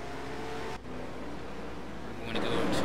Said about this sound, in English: As more cars coming down pit lane.